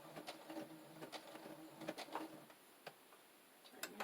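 Quiet rapid mechanical ticking and clattering from a Project Runway sewing machine stitching sheer fabric, with irregular sharper clicks, faint and close, no talking.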